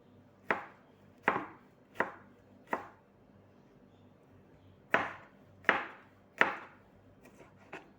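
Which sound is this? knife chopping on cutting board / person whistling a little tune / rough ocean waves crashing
knife chopping on cutting board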